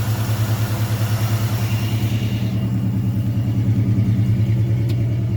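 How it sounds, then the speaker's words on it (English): A car engine fitted with a Quick Fuel 450 cfm Slayer SL-450-VS carburetor idles steadily with a fast, even rumble that runs a little high, continuous and fairly close throughout. "Seems idling a little high for me."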